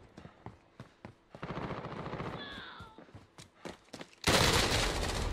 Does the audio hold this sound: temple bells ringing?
no